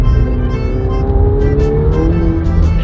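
A McLaren 720S under full throttle, its engine note loud and close, climbing steadily in pitch as it accelerates hard, with brief rushes of air on top.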